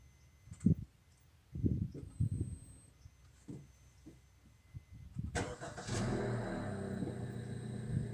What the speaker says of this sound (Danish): Prøv lige at starte bilen